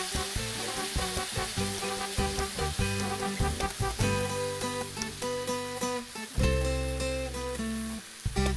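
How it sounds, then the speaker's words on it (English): Tomato-based broth pours into toasted rice in a hot pan while cooking Mexican rice, giving a steady sizzle and hiss that sits under prominent background music throughout. "So first I'm adding the tomato-based broth."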